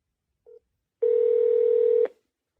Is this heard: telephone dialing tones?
yes